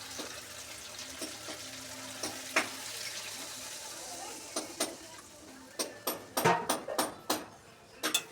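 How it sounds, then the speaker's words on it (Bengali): Water goes into a pan of simmering tilapia fish curry gravy, setting off bursts of crackling and spitting that grow denser and louder over a quiet kitchen background. "জলটা দিয়ে দিই এবারে।"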